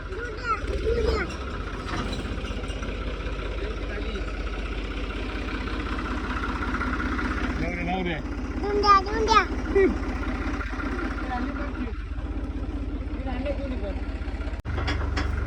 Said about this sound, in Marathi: आपल्या गोशाळेमध्ये ट्रॅक्टर आलेलं मित्रांनो